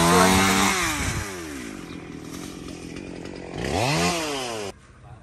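A chainsaw cuts mangrove apple branches by a riverbank, the engine revving loud and close with rising and falling pitch, easing to a steady drone midway, then winding up hard again before cutting off abruptly near the end.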